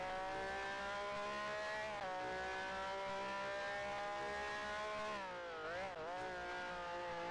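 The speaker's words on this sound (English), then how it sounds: "I liked having a roaring Ferrari engine." Ferrari racing engine in a sim racing game set in a historic Grand Prix league: a loud, continuous high-pitched roar with rising and falling revs and a sharp dip and recovery near the end, with no talk.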